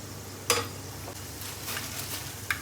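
Urad dal, chana dal and peanuts frying quietly in oil in a pan, a low steady sizzle broken by a couple of sharp spoon clinks and scraping stirs.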